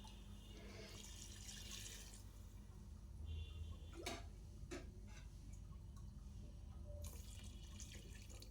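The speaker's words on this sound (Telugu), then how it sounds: "బియ్యం 5 గ్లాసెస్ వాటర్ వేసుకోవాలి" Water is poured onto rice in a pot while making vegetable biryani, a soft continuous splashing and trickling with a few brief clinks, fairly quiet and close.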